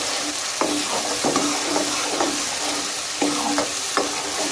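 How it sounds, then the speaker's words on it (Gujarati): Chopped onions fry in oil in a pan for a Gujarati sev usal, with a steady sizzle and a spoon scraping and stirring in regular strokes, close up and with no talking. "હવે આપણે આને સારી રીતના બે ત્રણ મિનિટ સુધી આપણે પહેલાં ડુંગળીને શેકી લઈએ"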